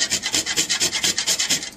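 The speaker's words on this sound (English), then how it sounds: "Got my little microplane going." Whole fresh nutmeg scraped across a microplane in quick, even back-and-forth strokes, about a dozen rhythmic rasps close to the ear with no talking.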